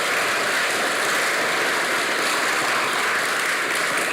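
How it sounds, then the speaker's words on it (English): An audience applauds at a ribbon-cutting launch ceremony for the AVIATE pilot-training partnership between United Airlines and ECSU: a dense, steady wash of many hands clapping, sustained and even for the whole stretch without letup. "Can I get a hand clap?"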